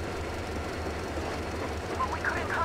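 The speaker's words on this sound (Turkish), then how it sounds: "Çuf çuf çuf. Tren geliyor." A train in Metro Exodus rumbles in with a steady low roll and a faint rhythmic clatter, and thin wheel squeals rise near the end.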